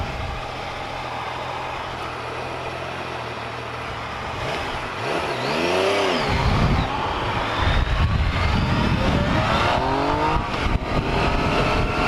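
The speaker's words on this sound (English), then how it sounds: "This morning, riding a Yamaha FJ-09." A Yamaha FJ-09 motorcycle on a morning commute, its engine idling low before rising into a loud, sweeping acceleration that climbs and holds up close, with passing traffic nearby.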